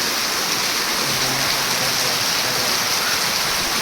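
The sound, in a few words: heavy rain pouring in a village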